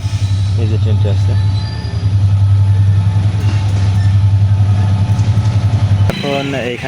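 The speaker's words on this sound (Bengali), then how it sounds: "এই যে ট্রেনটি আসছে" A train passes a level crossing in Bangladesh, a loud, close, steady engine drone with rumbling and clanking that cuts out near the end. A person talks over it.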